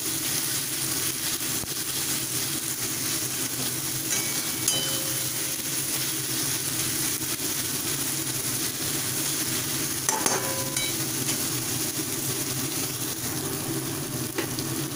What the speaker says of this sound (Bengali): এবার ভালোভাবে ফ্রাই করে নেব ফ্রাই করার সময় একটু নুন ছিটিয়ে দিচ্ছি তাহলে পেঁয়াজগুলো ভালোভাবে ভাজা হয়ে যাবে